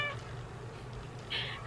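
A domestic cat meows once, short and thin, near the start, then a brief nasal cry follows over a low steady background hum, fairly close and not loud.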